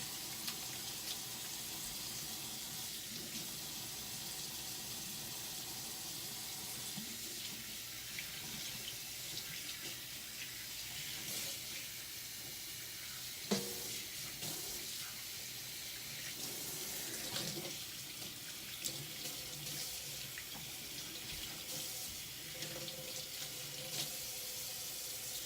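Tap running into a kitchen sink while hands are scrubbed under it, a steady close hiss and splash of water that continues throughout, with small shifts and splashes as the hands move.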